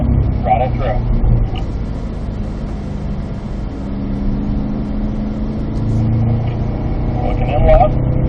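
A Cadillac CT5-V Blackwing's engine drones steadily as the car accelerates on a racetrack, a loud continuous in-cabin rumble with rising pitch, while a driving instructor talks over it.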